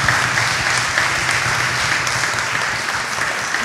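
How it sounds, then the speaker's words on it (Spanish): Steady audience applause for the boys and girls carrying the flag at a school ceremony, a dense, continuous wash of clapping held at even loudness throughout with no talk over it. "les voy a pedir un aplauso para los chicos y las chicas que están llevando la bandera"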